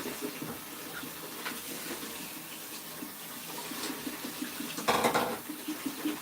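Tap water runs steadily into a sink as salted leafy greens for a Sierra Leone dish are rinsed, a constant soft splashing hiss with a brief louder gush near the end and no talking.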